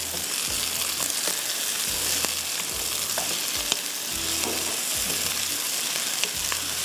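Minced beef for malai qeema sizzles in a pan with onions, a loud, continuous frying crackle with occasional stirring scrapes throughout, and no talking.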